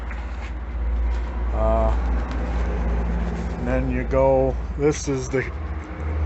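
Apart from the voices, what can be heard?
highway traffic noise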